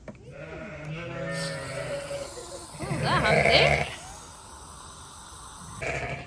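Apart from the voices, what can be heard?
sheep bleating in lambing pens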